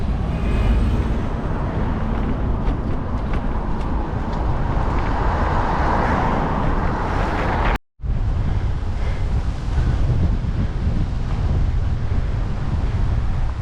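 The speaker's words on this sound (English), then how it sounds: "the wind's picked up" Strong wind buffets the microphone beside a road near bridges, giving a loud, continuous roar with a constant rumble. The roar cuts out briefly partway through and then resumes just as strong.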